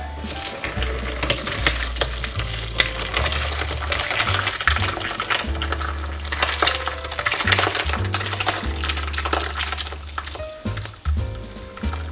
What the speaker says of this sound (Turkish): Şimdi şöyle süzgeç yardımıyla erikleri, tortularını ve suyunu ayıracağım.